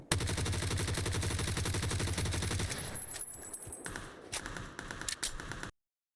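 A G36C assault rifle fires in PUBG in a long, fast automatic stream of loud, close cracks, then thins into scattered shots and clicks before cutting to silence.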